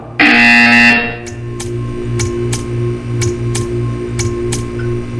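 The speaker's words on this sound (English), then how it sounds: "You will hear a buzzer." In the video game Portal 2, a loud harsh buzzer blares for under a second, then gives way to a humming electrical drone with a regular series of clicking ticks.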